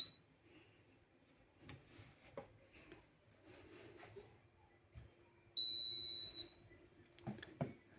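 An AliExpress 3-in-1 metal detector sounds one loud, steady electronic beep lasting about a second near the end, preceded by soft handling knocks and low background rumble.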